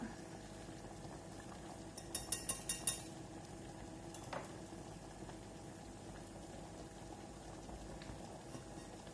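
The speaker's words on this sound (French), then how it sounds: "parce que ça chauffe au bain-marie" Soap mixture heats in a bain-marie, giving a steady low bubbling simmer throughout, with a quick run of small clinking taps and a later single knock, and no speech.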